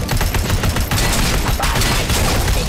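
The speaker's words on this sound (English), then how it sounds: "And he's shooting at me!" Sustained automatic gunfire in Robocop: Rogue City, loud, rapid overlapping shots pounding steadily for nearly three seconds with a heavy low rumble underneath.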